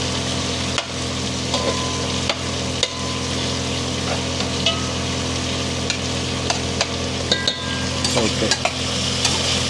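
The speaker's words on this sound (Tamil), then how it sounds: "கொஞ்சம் ஆனியன் ஓரளவுக்கு ஆனியன் குக் பண்ணிப்போம்" Onions fry for biryani in a pan, a constant loud sizzle with occasional sharp clinks and scrapes of stirring, close by and with no speech.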